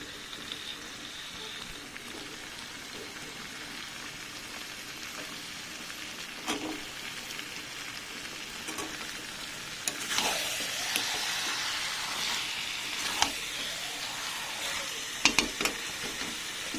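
Potatoes tipped into a pan of meat cooking with salt and turmeric, giving a steady sizzle and frying hiss with stirring scrapes and a few sharper clatters, fairly quiet and without talk.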